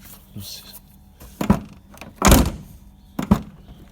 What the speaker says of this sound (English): This door could do with some adjustment as well to make it shut a bit tighter